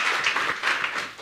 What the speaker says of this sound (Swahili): Napigeni makofi